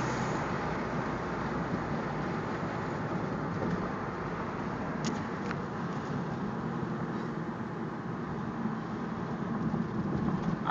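A Mitsubishi 3000GT VR4 with an HKS exhaust cruises along, its engine and exhaust giving a steady broad droning rumble mixed with road noise, with no talking.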